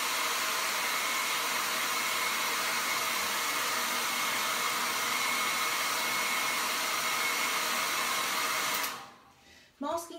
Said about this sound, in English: Shall we put the hairdryer on it? I'm going to just blast it again.